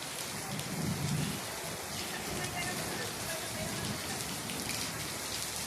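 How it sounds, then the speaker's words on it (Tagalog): Heavy rain pours down steadily, a dense close hiss of drops on surfaces with a low rumble of thunder early on. "Grabing ulan."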